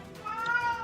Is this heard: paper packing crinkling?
no